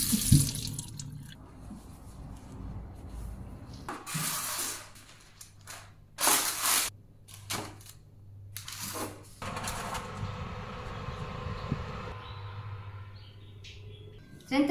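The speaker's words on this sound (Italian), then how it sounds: "inizio dai peperoni, li lavo, li asciugo" Bell peppers rinsed under a running kitchen tap before roasting, water splashing into the sink in uneven bursts with brief louder gushes and quieter trickles in between, close by and alone without any voices.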